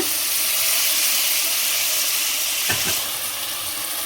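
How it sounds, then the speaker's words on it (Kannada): Mixed vegetables frying in oil in a pot for vegetable pulav: a continuous loud hissing sizzle, with a couple of brief stirring knocks near the end and the sizzle settling a little softer afterward, no voices. "ಸ್ವಲ್ಪ ಎಣ್ಣೆಯಲ್ಲಿ ಫ್ರೈ ಆಗಲಿ ತರಕಾರಿ ಎಲ್ಲನೂ."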